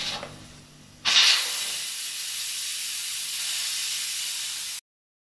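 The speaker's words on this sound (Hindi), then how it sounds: "स्टीम निकल चुकी है तकरीबन" A pressure cooker, just turned off after cooking keema, releases its steam with a sudden loud hiss that keeps up steadily for a few seconds before stopping abruptly.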